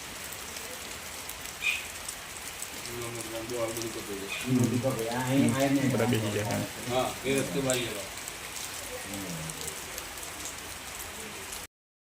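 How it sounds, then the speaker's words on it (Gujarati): Rain falls on the road during a walking pilgrimage to Ambaji, a steady hiss of drops on surfaces throughout, with several voices talking over it in the middle. "હાલ વરસાદ ચાલુ થયો"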